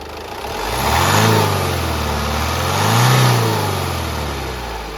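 A Honda Jazz engine revs in two smooth swells, rising and falling close by with a steady mid-low drone and no talking.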